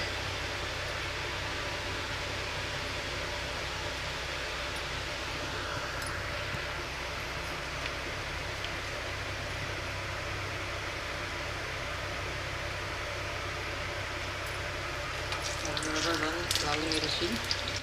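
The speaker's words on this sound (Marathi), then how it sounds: "तेल गरम झालेलं आहे। घालणार आहे राई," Mustard seeds sizzling in hot oil, a steady dense crackle that holds evenly throughout and grows a little sharper and more spattery near the end, heard close with no talk.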